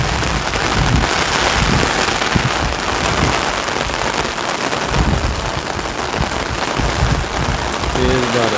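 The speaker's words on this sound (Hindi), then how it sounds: "बारिश आज फिर शुरू हो गई है जी।" Rain falling in a village, a dense, loud, continuous hiss of drops on surfaces that fills the whole stretch, with occasional lower thumps and some voices faintly mixed in.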